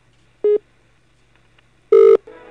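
A telephone sounds two short electronic tones, one brief beep followed by a longer, louder one about a second and a half later, clear and close against near silence.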